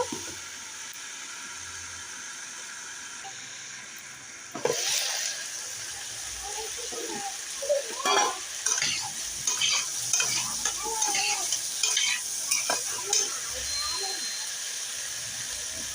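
Vegetarian khichdi ingredients frying and being stirred in a pot, a low sizzle that jumps into busy scraping and clattering spatula strokes after a sharp knock, continuing loud and irregular.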